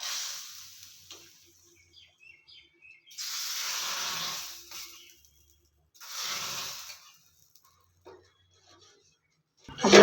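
Hot oil tempering of mustard seeds and asafoetida poured into betel leaf rasam, giving two loud hissing sizzle bursts separated by quieter stretches, with a sharp clatter at the very end.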